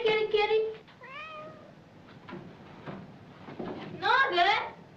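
A cat meows several times, with clear drawn-out calls at the start and a louder pair near the end, heard close and without talk around them.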